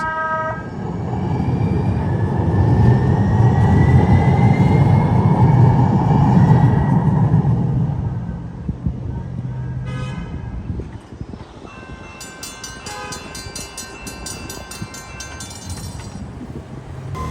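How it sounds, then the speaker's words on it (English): A San Diego Orange Line light rail trolley rumbles and hums as it pulls away westbound from La Mesa Boulevard station, loud at first then fading, followed by clear chiming bell tones. "Orange Line trolley departing La Mesa Boulevard station heading westbound to Courthouse"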